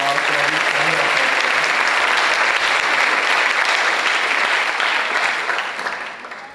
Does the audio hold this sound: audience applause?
yes